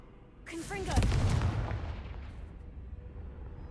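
The Confringo fire spell in Hogwarts Legacy launches with a rising whoosh and a deep, booming blast that rolls and fades over a few seconds, with a brief voice under the start.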